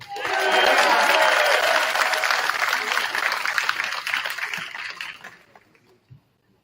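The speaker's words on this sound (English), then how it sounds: "another round of applause for this year's cadet leadership and our faculty and staff." A crowd at the Army & Navy Academy 2024 opening ceremonies breaks into loud, dense applause that holds for several seconds, then thins and fades to a few last claps.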